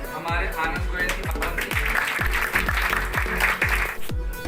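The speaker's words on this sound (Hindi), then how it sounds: "फूल मालाओं और तालियों के साथ आए हुए अतिथियों का किया गया भव्य स्वागत" Applause welcoming guests with garlands at a political gathering, dense crowd clapping loud and close throughout, mixed with a rhythmic drum beat and a voice speaking over it.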